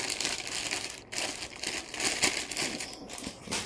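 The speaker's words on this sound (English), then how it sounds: "Roll that up. Put it in the plastic bag here." Plastic crinkles and rustles in bursts close by, irregular crackling handling noise with brief pauses.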